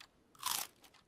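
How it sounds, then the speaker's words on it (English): A single crisp bite into a fresh apple, a loud, close crunch lasting about a quarter second and fading quickly into quiet. "I take a bite."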